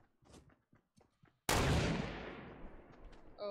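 A single loud, sharp sniper rifle shot in the video game Fortnite cracks out and rolls into a long, fading boom, after a few faint ticks and shuffles.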